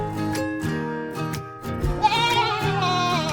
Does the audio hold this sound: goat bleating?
yes